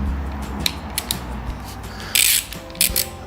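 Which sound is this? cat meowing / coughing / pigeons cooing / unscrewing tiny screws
unscrewing tiny screws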